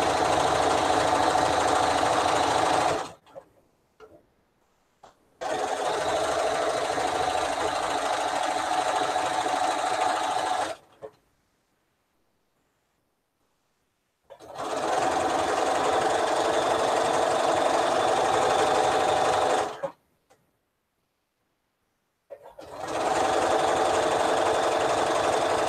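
A sewing machine stitches a quilt seam in loud, steady runs of rapid mechanical whirring, four bursts separated by short silent pauses, with no voices.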